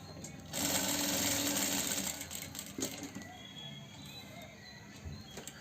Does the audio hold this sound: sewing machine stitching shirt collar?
yes